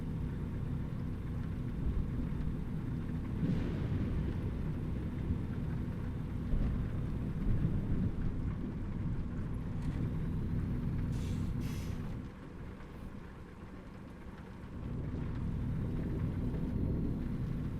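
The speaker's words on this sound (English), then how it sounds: "We got a big rainstorm here right now." A thunderstorm with rain in American Truck Simulator: a steady low rumbling wash of rain and distant thunder that dips briefly near the end before swelling again, with no talking.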